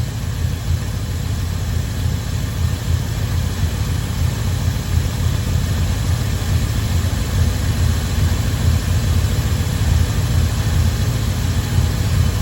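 A 1969 Dodge 3/4 ton truck engine idling, a loud, steady low rumble that runs unbroken throughout with no voices.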